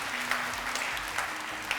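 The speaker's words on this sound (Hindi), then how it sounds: "तिफल के लिए बहुत सारी तालियां।" Brief applause from a studio audience on a Ramazan television game show in Pakistan, a short burst of clapping heard at moderate distance under a faint tonal hum.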